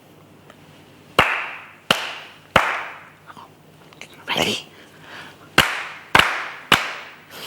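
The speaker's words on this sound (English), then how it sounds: "I want you to listen carefully to my claps and then copy them." Sharp hand claps in an uneven copy-me rhythm, seven loud close claps spaced across the stretch with a softer scrape midway, and a voice briefly asking if someone is ready at the start.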